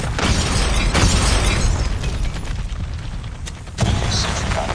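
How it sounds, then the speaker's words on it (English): A hostile UAV sentry gun is blown apart during a hardpoint match in a first-person shooter, loud dense rumbling blast noise throughout with a fresh burst near the end. "UAV sentry gun has been destroyed."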